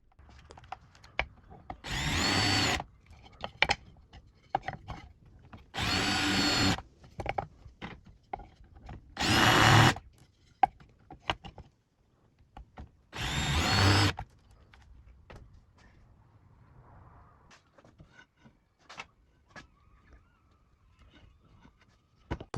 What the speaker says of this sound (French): On perce donc 2 fois les 2 morceaux du dessus et du dessous.